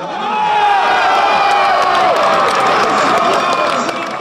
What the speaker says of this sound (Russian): И вместе искренне радовались забитым мячам.